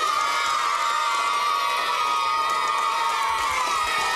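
Children cheering and shouting as a group, with clapping mixed in, at a kids' clubhouse show. The high, excited crowd noise stays loud and steady throughout.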